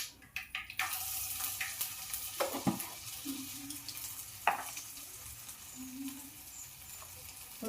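A spoonful of ginger goes into a hot pan for a tamarind-leaf dried-fish curry and sizzles, opening with a few sharp clatters before a steady, fairly quiet frying hiss with occasional stirring knocks, no voices.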